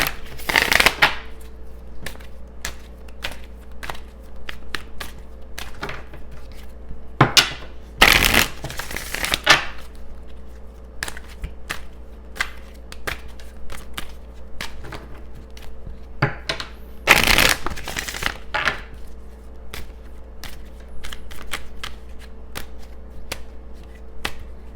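Tarot cards being shuffled by hand, with rapid clicking riffles, sharp bursts of cards spilling, and a faint low hum underneath, close and fairly loud.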